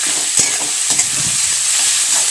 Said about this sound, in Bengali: তাই পেঁয়াজটাকে ভালো করে লাল করে ভেজে নেব